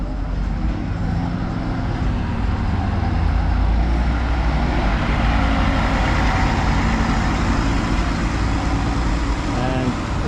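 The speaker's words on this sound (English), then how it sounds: "Here's the hop on, hop off bus." A hop-on hop-off tour bus rolls along a busy Tbilisi street, its heavy engine rumble steady and close amid continuous traffic noise for the whole stretch, with faint voices in the background.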